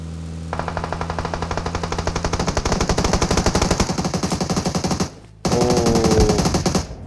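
Loud, rapid automatic rifle fire, Groza or AUG, in a PUBG Mobile battle, sustained bursts that stop briefly near the end and then resume, with no talking.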